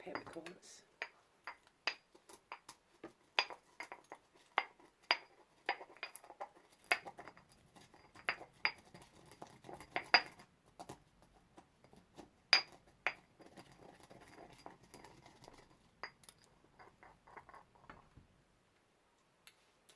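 Black peppercorns trickle and tick into a glass jar, scattered small clinks and rattling patters, quiet and close, with soft pauses between pours.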